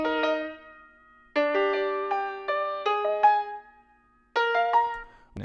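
A short melodic loop from an indie pop song doubled on piano, plucked bright notes in phrases separated by brief gaps, close and clean with no voices.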